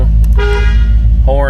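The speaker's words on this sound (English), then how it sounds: "Horn good." A 1962 Chevrolet Impala SS horn gives two short honks close up, brief tonal blasts separated by a pause, over a low background rumble.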